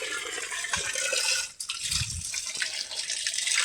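Water runs steadily from a pipe outdoors in a rain-soaked field of ridge gourd crops, a continuous broadband rush with a brief dip midway and some low splashing.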